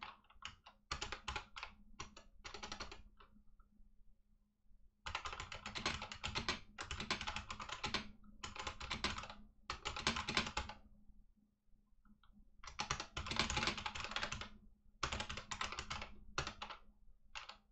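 Computer keyboard typing while composing a message in the Schoology school messaging system, heard as bursts of close, rapid key clicks that stop and start with short pauses, alone with no talk.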